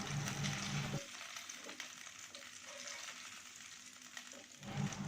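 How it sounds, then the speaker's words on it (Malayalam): Prawns frying in oil in a pan, a close steady sizzle with louder bursts at the start and end and quieter crackling in between. "ഇനി ബാക്കിയുള്ള പ്രോൺസ് മുഴുവൻ നമുക്ക് ഇതുപോലെ വറുത്ത് കോരിയിട്ട് ഒരു പ്ലേറ്റിലേക്ക് മാറ്റി വയ്ക്കാം"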